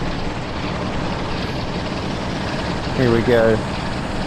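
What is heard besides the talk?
Class 47 locomotive at full throttle in Train Sim World video game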